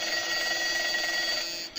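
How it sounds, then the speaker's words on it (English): An alarm clock's bells clatter in a continuous bright metallic ring for under two seconds, loud and alone, then cut off abruptly. "when the clatter of bells woke me. I shut off the alarm."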